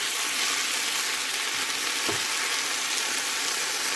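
Mushrooms fry in a pan for a vegan dish, a steady close hiss and crackle of sizzling with a brief stir or clunk midway and no talking.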